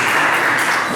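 A church congregation applauding during an evening worship service, a brief burst of dense, steady clapping filling the whole moment.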